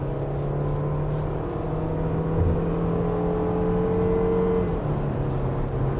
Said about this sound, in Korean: 여기가 풀가속 구간.